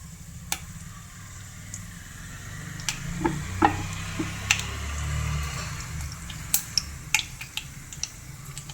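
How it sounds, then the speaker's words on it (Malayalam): Mustard seeds and fenugreek fry in coconut oil for a mango curry, giving scattered sharp pops and crackles over a low, soft sizzle, heard close with no talking. "കടുക് ഒന്ന് പൊട്ടിക്കഴിയുമ്പോൾ നമുക്ക് കുറച്ച് ഉലുവായിടാവേ"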